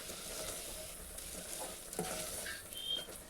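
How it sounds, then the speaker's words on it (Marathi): Eggplant and masala are stirred and roasted in oil, with a gentle sizzle under repeated scraping strokes of a spoon against the pan, close and moderately quiet. "मसाला आणि वांगी व्यवस्थित मिक्स करून भाजून घ्यायचं तेलावरती"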